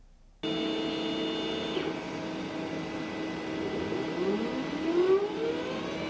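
A Glowforge laser cutter scores a graphic and cuts an outline, starting after a moment of silence with a steady machine drone and fan hum, with faint tones that glide upward as the head moves.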